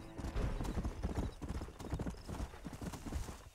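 Horse hooves clip-clop steadily in Red Dead Redemption, a continuous rhythmic trot with a brief whinny, loud and close throughout.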